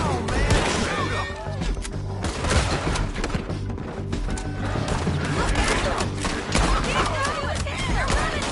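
Gunfire in the Red Dead Redemption II video game, a steady stream of cracking shots and thumps in a chaotic shootout, with voices shouting over the din.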